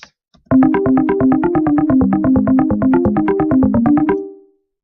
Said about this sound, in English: I was using Fruity DX10 and the preset was harmonics.